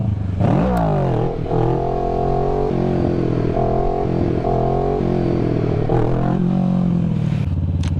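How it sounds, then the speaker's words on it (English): A Kawasaki Ninja 650 motorcycle engine revving hard during a clutch-up wheelie, a loud, close, sustained roar whose pitch sweeps up and down as the throttle is worked. "you're gonna clutch in, you're gonna rev the piss out of the bike, and then you're going to dump the clutch"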